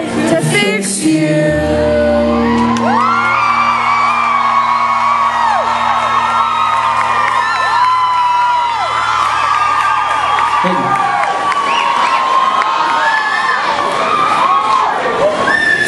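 Large concert crowd at a Baltimore show cheering, whooping and shouting loudly and continuously, a dense roar of many voices with high yells and sustained tones running underneath.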